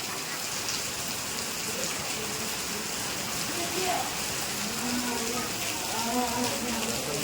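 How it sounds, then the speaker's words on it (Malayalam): Steady rain pours down, a dense continuous hiss of drops striking a surface, with faint voices murmuring underneath. "നല്ല മഴയാണ് ഞങ്ങൾക്ക് വളരെ സന്തോഷം ഈ മഴ പെയ്യുന്നത്"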